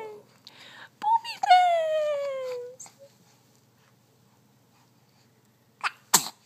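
A single sneeze near the end, sharp and close after a stretch of quiet, preceded by a woman's high, sing-song voice talking affectionately.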